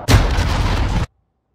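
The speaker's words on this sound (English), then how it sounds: "Enemy cruise missile." A single heavy enemy cruise missile blast in a video game, one loud broadband boom lasting about a second before cutting abruptly to silence.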